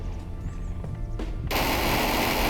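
Rapid gunfire from imported weapons in a video game under development: after a quiet moment, a loud, dense automatic burst erupts and sustains close up to the end.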